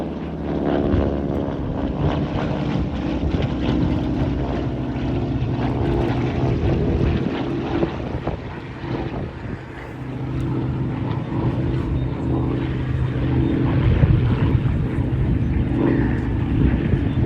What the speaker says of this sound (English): This particular Harvard was built in 1953 for private operators, before in 2020 it was sold to Andrew Goodal